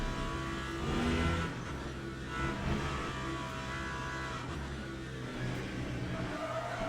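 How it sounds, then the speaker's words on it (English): A V10 race car engine in Le Mans Ultimate at Silverstone whines and surges steadily, rising and falling in pitch as it revs through gears, loud and continuous with no voices. "You can hear the glorious V10."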